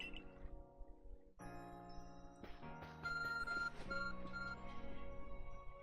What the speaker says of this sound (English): Arc phone is beeping.